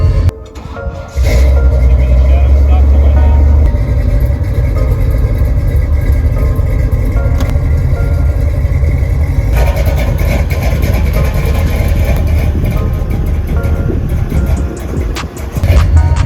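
Engine of a self-built 1959 Chevy Apache pickup running loud and close, a steady low rumble with a shift in tone partway through and no talk over it.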